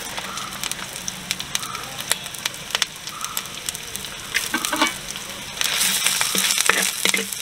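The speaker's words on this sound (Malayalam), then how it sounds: "ഇനി നമുക്കതിലേക്ക് പച്ചമുളക് അരിഞ്ഞു വെച്ചതും സവാള ചെറുതായിട്ട് അരിഞ്ഞത് ഇട്ട് കൊടുക്കാം." Chopped green chilies and onions hit a pan of mutton for a parts roast, giving a steady close crackling sizzle that swells louder and denser in the last couple of seconds.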